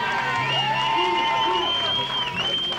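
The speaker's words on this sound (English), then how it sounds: "Big round of applause." A round of applause and cheering at a 50th wedding anniversary party, clapping mixed with whoops and excited voices, with a raised speaking voice carrying over the crowd.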